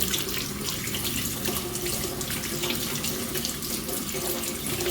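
Water from a tap runs steadily over dusty silicone suction cups held under the stream at a sink, a close, continuous splashing hiss with no pauses and no voices.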